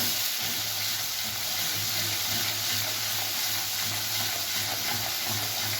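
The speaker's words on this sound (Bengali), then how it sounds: "জিরের গুঁড়ো ধনের গুঁড়ো দিয়ে আমি বেশ কিছুক্ষণ ধরে মশলাটা কষাবো" Spice paste with Kashmiri chilli, cumin and coriander powder sautés in a pan for a bhetki fish-bone dish, giving a loud, continuous close-up sizzle with a faint low hum underneath and no speech.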